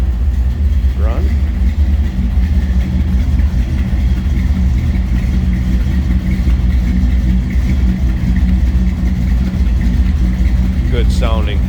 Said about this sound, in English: Good sounding little rumble coming from that ZZ4. Again, MagnaFlow mufflers